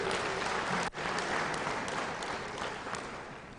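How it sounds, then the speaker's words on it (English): A ceremony crowd gives sustained applause, a steady wash of many hands clapping at a distance that dips once briefly and slowly tapers off. "I think they deserve a round of applause."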